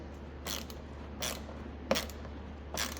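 A ratchet works rusty, corroded bolts on a 2010 Nissan Titan headlight assembly, giving four short, separate bursts of clicking and creaking with quiet gaps between them. The sound is close and moderately loud.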